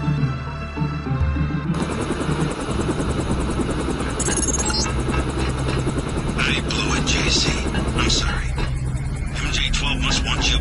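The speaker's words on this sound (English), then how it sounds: "Time to see if this stealth copter is worth all the fuss." A stealth helicopter in Deus Ex flies with a loud, steady rotor thrum and engine roar that fills the whole stretch, while voices talk over it.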